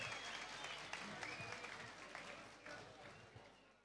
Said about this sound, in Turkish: Başkanımı canlı bir alkışla sahneye bir almak istiyorum lütfen